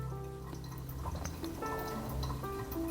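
Water is poured slowly over ground coffee for a pour-over brew. A continuous soft trickling and dripping fill the clip, with faint steady background tones underneath.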